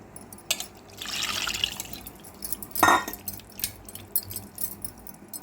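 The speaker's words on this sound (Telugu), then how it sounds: "ఇప్పుడు ముందుగా తీసి పెట్టుకున్న చింతపండు గుజ్జు కూడా ఇందులో పోసేసుకుందాము" Tamarind pulp pours in a short splashy burst into a pot, with a few clinks and knocks around it; no one speaks.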